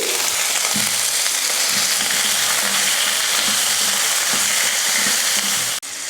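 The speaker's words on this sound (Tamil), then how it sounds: "வெள்ளை பூண்டு வெங்காயமும் ஓரளவுக்கு வதங்கட்டும்" Garlic, onion and tomatoes fry in oil with a steady, loud broadband sizzle, broken by a few soft scraping stirs of a spoon, with no one talking.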